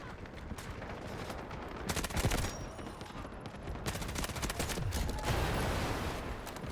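Artillery barrage in the game Delta Force, a dense continuous stream of booming impacts and rapid gunfire, steady and moderately distant, with no talk over it.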